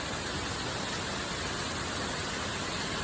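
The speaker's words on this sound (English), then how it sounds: "Wow, the rain's coming kind of sideways." Heavy rain driven sideways by wind, a steady, dense hiss of rainfall pouring down continuously with no voices.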